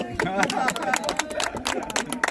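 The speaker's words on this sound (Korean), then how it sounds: "자, 박수 한번 주시죠" A small group on an outdoor nature walk gives a quick round of applause, brisk uneven clapping close by with a voice talking over it.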